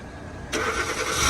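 A car engine cranks and catches at once, then settles into a steady close running hum as the vehicle is readied to back out, with no talk.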